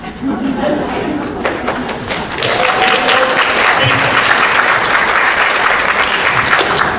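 Audience at an Alaska State Senate candidate forum breaks into loud, sustained applause, swelling after a couple of seconds, with some chatter mixed in.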